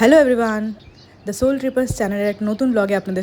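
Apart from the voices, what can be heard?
No everyday noises stand out.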